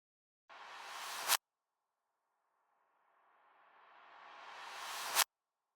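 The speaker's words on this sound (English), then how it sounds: "And now this clap sounds like this." A hand clap plays forward, then a reversed clap swells up slowly and cuts off sharply, both close and alone in silence.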